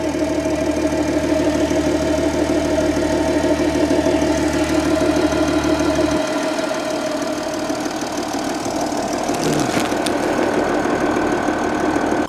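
A Mercedes S350d diesel engine with a fuel leak starts and knocks and clatters loudly up close, running at a rough, rhythmic idle throughout with no pause.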